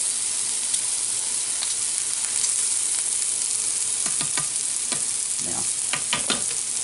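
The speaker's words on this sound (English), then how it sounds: "Stir in tomato paste." Beef bolognese sizzles steadily in a pan while tomato paste is stirred in, a constant close hiss with scraping spoon strokes toward the end and no talking.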